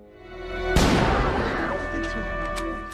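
A single gunshot is fired upward, a sharp loud blast followed by a lingering rumbling decay, over sustained background music.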